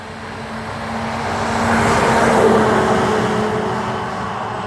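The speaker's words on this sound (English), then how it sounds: "a truck's coming around the corner again, so you're gonna hear that" A VDOT truck rumbles past on a nearby road by a church cemetery, its steady engine noise swelling to a peak and then slowly receding.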